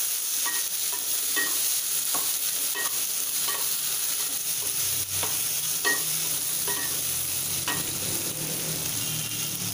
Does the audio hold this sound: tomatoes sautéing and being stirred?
yes